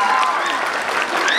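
Loud, close crowd applause at a school prize-giving ceremony for competition winners, dense continuous clapping with faint voices mixed in.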